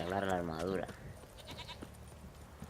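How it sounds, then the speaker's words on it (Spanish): A goat bleats in The Witcher 3, a wavering, quavering cry in the first second, then fading into quiet ambient game sound. "Una cabra se ha oído por ahí"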